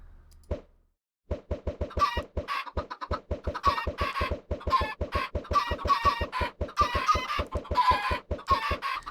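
Many Minecraft chickens cluck in quick repeated bursts, a busy overlapping stream of clucks with pops underneath, steady and close.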